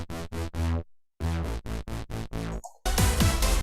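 A synth bass line plays alone in a music production, a bouncy pattern of loud, tonal, rhythmic notes with short gaps between them, then a brighter, denser burst at the end.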